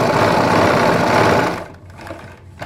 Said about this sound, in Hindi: ये हमने सिलाई लगाई।